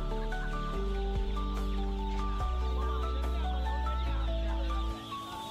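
Chickens cluck and squawk at the Pallavaram Friday market in Chennai, a noisy, busy setting, with steady tonal background hum and scattered bird calls throughout.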